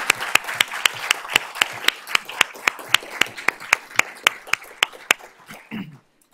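Applause at a school district Board of Trustees meeting honoring employee donors: a few sharp, evenly spaced hand claps ring out over softer scattered clapping before stopping abruptly.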